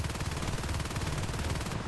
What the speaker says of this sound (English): who's gonna start pounding bullets into this hive